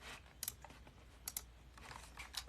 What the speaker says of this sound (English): The sound of the keyboard is so good.